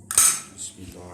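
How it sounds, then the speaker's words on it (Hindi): Salt and red chili powder mixed with a metal spoon in a bowl for aloo pakora, giving a brief close clink and scrape of utensil against dish, then quieter handling. "अब इन सारी चीज़ों को मिक्स कर लेंगे।"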